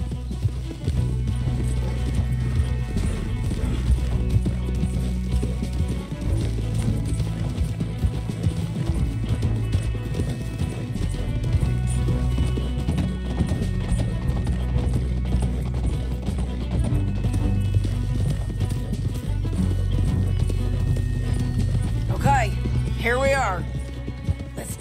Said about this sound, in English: Ditch the horses and come up with a plan.